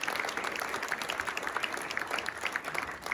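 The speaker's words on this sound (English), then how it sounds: "Can we give Matt a round of applause?" Audience at a town hall in Manchester, New Hampshire, applauding: dense, steady clapping from a sizable crowd that holds at an even level throughout, without speech.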